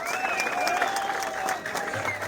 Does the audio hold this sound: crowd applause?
yes